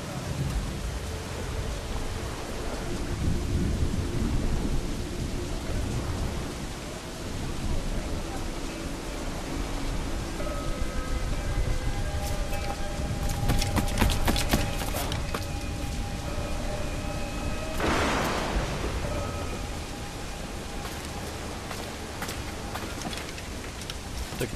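Heavy rain hisses steadily through a thunderstorm at sea in Assassin's Creed 4 Black Flag, with low rumbling thunder swelling and fading and a sharper burst of crackling around the middle, while a voice talks faintly underneath.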